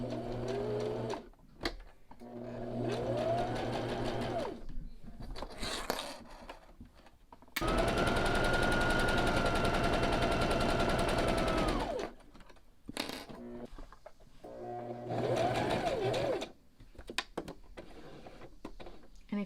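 Sewing machine running a straight stitch on cloth while making reusable family cloth wipes: close, fast mechanical whirring in several bursts, the longest one in the middle, separated by quiet pauses.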